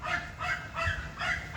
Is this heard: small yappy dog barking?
yes